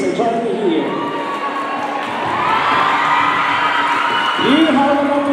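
A pageant crowd cheers and screams loudly, with whoops and shouts swelling and renewing in waves, continuous and close.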